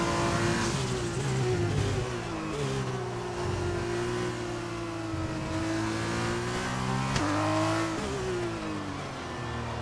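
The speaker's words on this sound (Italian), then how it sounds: "Senti la turbina come va, come sturbina." A race car's turbocharged engine in the F1 2020 racing game drones loud and steady throughout, its pitch climbing and dropping through gear changes under continuous acceleration, with no talk.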